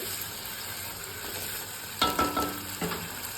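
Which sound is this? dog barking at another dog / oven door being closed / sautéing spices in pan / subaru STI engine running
sautéing spices in pan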